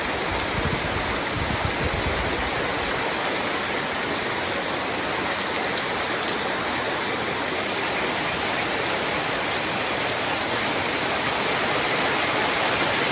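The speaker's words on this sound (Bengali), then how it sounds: "বৃষ্টি আস্তে আস্তে বাড়তেছে" A dense, even hiss of rain pours down without a break, loud and close, with no voices over it.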